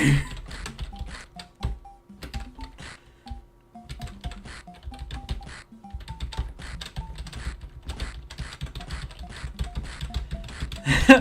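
A computer keyboard is mashed rapidly during a Sonic 2 game session, a dense stream of close clattering keystrokes with short electronic game beeps running over it.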